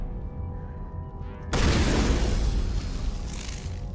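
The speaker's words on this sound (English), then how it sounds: "I'm trying to shoot the barrel" A single loud explosion erupts as an explosive barrel is shot in Mass Effect 1 Legendary Edition on Feros, a sharp broadband blast after a quiet ambient stretch, followed by a sustained roaring rumble and debris wash.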